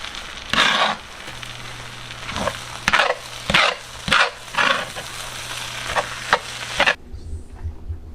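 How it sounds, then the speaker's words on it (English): Chicken fried rice being stirred in a large skillet, a soft sizzle running underneath as a utensil scrapes and tosses the rice in repeated strokes, close and clear, ending abruptly. "So now we're just going to stir this all together."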